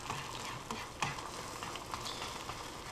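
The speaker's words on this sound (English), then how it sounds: "the way you scramble eggs is you just hit them. Hit them over and over again" Eggs scrambling in a hot pan, a soft continuous sizzle with repeated spatula taps and scrapes as they are hit and moved around, fairly quiet and close.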